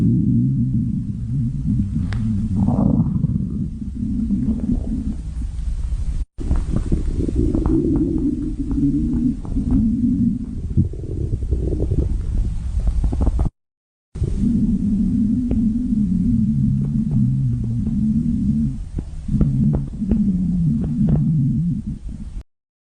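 A growling, gurgling stomach rumble comes through as a sustained low throbbing with a brief gap near the middle. It is loud and close, with no talk over it.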